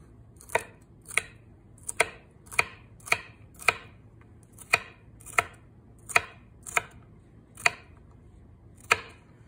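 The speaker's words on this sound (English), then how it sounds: "here I'm going to just kind of cut the celery into little strips" A knife cuts celery into strips on a cutting board, giving about fourteen crisp, close chops in a fairly steady rhythm, each one a sharp crunchy tick.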